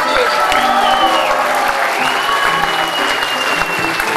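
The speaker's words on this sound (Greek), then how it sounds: "Χειροκροτήστε τους." An audience applauds an amateur theatre troupe from Andros at an evening performance, a loud, dense wash of clapping from a crowd that runs throughout, with some voices mixed in.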